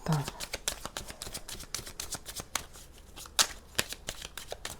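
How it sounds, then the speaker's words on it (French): A deck of cards is shuffled and drawn for a tarot-style reading, making rapid, close riffling and flicking sounds with a few sharper snaps, under quiet talk. "On va tirer 9 cartes."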